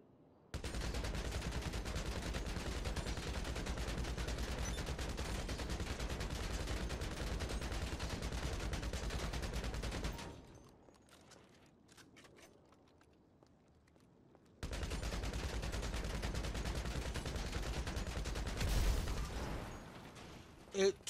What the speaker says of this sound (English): It took the Combat MG Mark II a full clip, that's 80 bullets, to destroy the hearse.